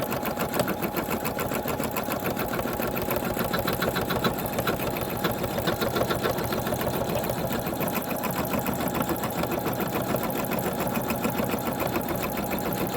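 Embroidery machine stitching a snow globe Christmas ornament in the hoop, a fast, steady rhythmic clatter of the needle that runs continuously and close without pause.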